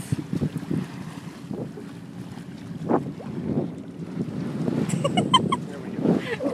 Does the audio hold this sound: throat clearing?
no